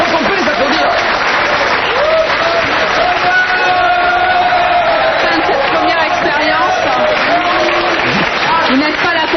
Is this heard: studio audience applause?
yes